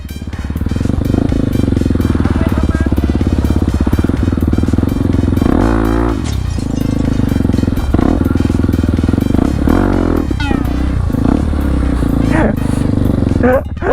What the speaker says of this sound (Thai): ถ้าคิดว่าจะยกอ่ะต้องต้องเร่งเร่งเร่งเยอะกว่านี้หน่อยนึง